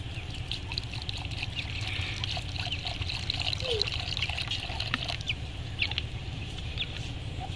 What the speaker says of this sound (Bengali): পরিমাণ মতো জল দিতে হবে।